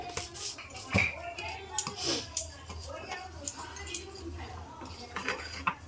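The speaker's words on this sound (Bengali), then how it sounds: "এটা ভালো করে একটু মিক্স করে নেব" A spoon stirs sugar, cardamom powder and other ingredients into a bread rasmalai mixture, making close scraping clinks and taps against the bowl over six seconds, with a voice speaking over them.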